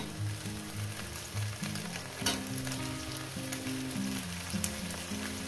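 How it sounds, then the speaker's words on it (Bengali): Okra and green chillies sizzle steadily as they fry in a pan, a close, continuous crackle with occasional stirring and no talking. "এরপর দিয়ে দেবো কাঁচা লঙ্কাগুলো, ঢেঁড়সগুলো একসঙ্গে একটু ভেজে নেব"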